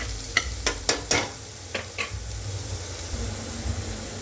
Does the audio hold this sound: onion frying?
yes